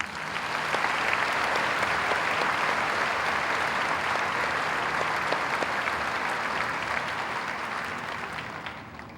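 A large commencement audience at a 2009 high school graduation applauds a salutatorian: a dense, loud, steady roar of clapping that holds for about nine seconds and tapers slightly at the end.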